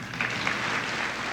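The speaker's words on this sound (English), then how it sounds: "This deserves a round of applause." Applause from an audience at a 1988 centennial celebration for Wheaton Industries in Millville, New Jersey, a steady dense wash of clapping sustained throughout.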